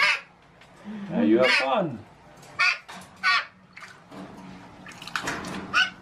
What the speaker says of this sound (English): Two magpies.